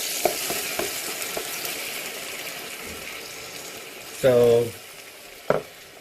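Pureed onions blended with two green chilies fry in a pan with a constant close sizzle, broken by a brief utensil clank and a short spoken word partway through.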